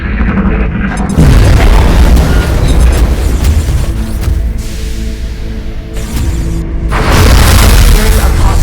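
A proximity mine explodes in the XCOM: Enemy Within video game, a loud, close booming blast with rumbling bass that rolls and swells over several seconds, then a second heavy boom near the end.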